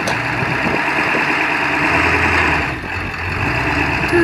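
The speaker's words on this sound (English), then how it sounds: "Listen to that exhaust leak." A heavy Jeep engine with an exhaust leak idles steadily and loudly, a constant rumbling drone with a rough, raspy edge that briefly dips before settling back.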